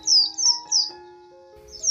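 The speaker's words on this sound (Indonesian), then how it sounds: "disertai kicauan burung yang berlarian ke sana kemari" Bird chirps on a bright Sunday morning: three quick, high, downward-sliding tweets in a row, then a pause and another chirp, loud and close over a faint steady tonal hum.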